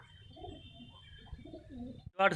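Soft, low cooing of a pigeon that can no longer fly murmurs through the clip, then a brief louder burst of rustling near the end.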